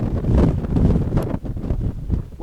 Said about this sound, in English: Windy where I am, but that's because I'm not quite behind the boulder right now.